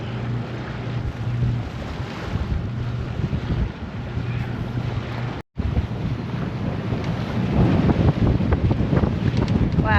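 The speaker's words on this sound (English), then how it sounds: "Wow, you can hear that wind really picking up now." Strong wind buffets the microphone aboard a sailboat heading out of a marina, a steady loud roar that swells louder toward the end, with a brief dropout midway and water and hull noise beneath.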